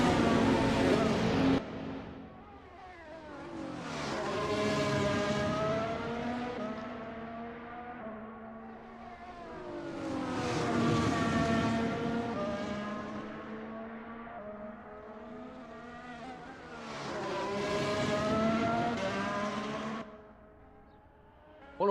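Race cars in a sim racing video game at the Red Bull Ring, engines rising and falling in three long passes as cars approach and fade, with revving harmonics and quieter gaps between.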